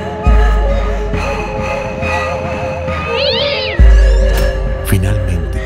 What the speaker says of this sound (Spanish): Maullaba furioso.